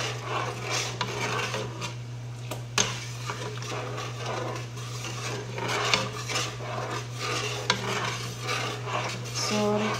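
Cornstarch is stirred into milk for maja blanca, a continuous scraping, rubbing rasp of a utensil against a pot with a few sharper clinks, close and steady under a constant low hum.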